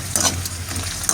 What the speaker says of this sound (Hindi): देखो कितने मज़े के फ्राई हो रहे हैं माशाल्लाह